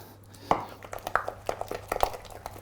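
Choux pastry dough is beaten in a bowl with a wooden spoon, giving irregular dull knocks and thuds that come in quick clusters, fairly close, over a faint low hum.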